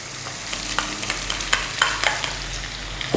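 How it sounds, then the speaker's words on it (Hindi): Finely chopped onions fry in hot oil for a dhaba-style egg masala curry, with a steady close sizzle and scattered sharp clicks and scrapes from stirring. "इसी तेल में हम प्याज फ्राई कर देंगे"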